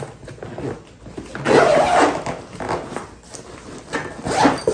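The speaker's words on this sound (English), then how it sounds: "Now I think we can zip this up." Zipper on a pickleball net carrying bag being pulled closed in several close, loud rasping strokes separated by short pauses.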